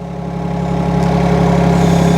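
A mini excavator engine idles at low revs, a steady loud drone with constant low harmonics that builds slightly over a couple of seconds, with no voices.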